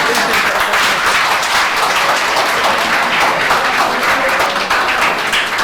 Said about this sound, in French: Est-ce qu'on peut applaudir pour les débats?